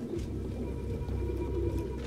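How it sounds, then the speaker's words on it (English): Pigeons coo in the Detroit: Become Human video game, a low, soft, repeating murmur of several birds close by with steady background ambience and no talking. "No human could live with all these fucking pigeons."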